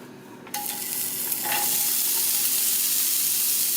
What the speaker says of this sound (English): So I have the pan on medium heat, and now I'm just going to add in some olive oil. So now I'm going to add in my veggies.